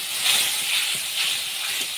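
Chili paste dropped into a hot pan of cumin powder, Kashmiri chili and turmeric gives off a steady, loud, close hiss of sizzling oil that lasts throughout with small surges.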